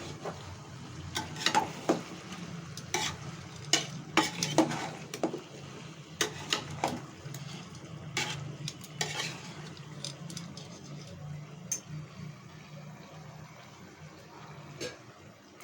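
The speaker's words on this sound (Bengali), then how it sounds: "এখন আবার একটু নেড়ে দেব।" A mixed vegetable curry with pumpkin is stirred in a pan, with a busy run of scraping, clinking spoon strikes against the metal over a soft sizzle, thinning out toward the end.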